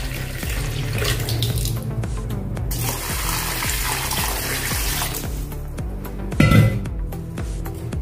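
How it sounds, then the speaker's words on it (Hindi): Water runs into a pot of washed rice and lentils for a Maharashtrian home lunch, a steady splashing pour close by, with a brief louder burst near the end. "अभी इसमें हम पानी डालेंगे।"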